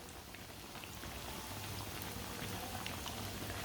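Sandwich pakoras frying in hot oil while oil is spooned over the top, a constant soft bubbling hiss that stays even and fairly faint throughout.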